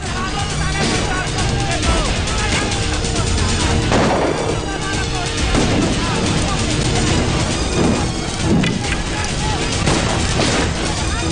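Dense bursts of gunfire crackle and boom continuously amid loud, chaotic noise, with shouting voices mixed in.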